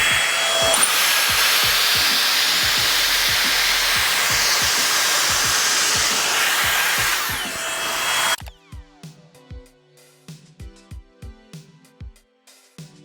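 A Dyson Airstrait hair straightener blows hard in boost mode, a loud steady whooshing airflow for about eight seconds that cuts off abruptly, followed by faint scattered clicks and handling knocks.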